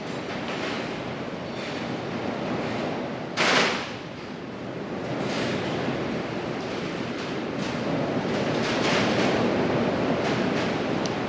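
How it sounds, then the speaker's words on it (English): Continuous gusty wind rattling an uninsulated shop building, a rattling, rumbling texture with one brief sharp clatter partway through; no voices. "so it kind of shakes, rattles, and rolls with the wind."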